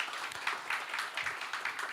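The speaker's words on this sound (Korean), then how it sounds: "다시 한번 그 강연을 해주신 교수님께 큰 박수 한번 부탁드리겠습니다" Audience applause at an education forum keynote, a dense steady patter of many hands clapping at a moderate distance, sustained evenly from start to finish.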